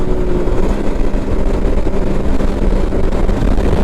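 Can-Am Maverick X3 DS Turbo RR side-by-side driving at speed over bumpy terrain, a loud continuous engine roar and rushing wind noise throughout, with no talking.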